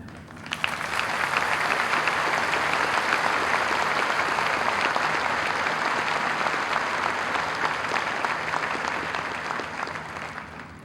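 Sustained clapping from a large high school commencement audience in an auditorium, loud and dense throughout, swelling quickly and holding steady before tapering off at the end.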